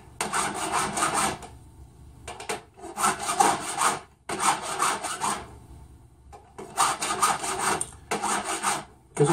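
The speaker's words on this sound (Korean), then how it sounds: "서로가 돌려가면서 전체 면을 이렇게 줄 작업을 해주게 되는 것이죠" A round metal ring is worked with a hand file in jewelry-making, giving bursts of scraping, rasping strokes, each about a second long, separated by short pauses and heard up close without talk.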